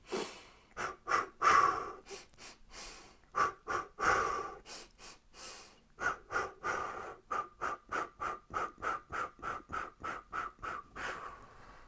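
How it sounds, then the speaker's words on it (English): Choir singers doing a breathing exercise alternate long sniffs in with sharp blown-out breaths, a steady rhythmic series of about two dozen audible breaths, close and clear with no talking. "make sure that your breaths in, those sniffs in at the beginning, are good and long and deep"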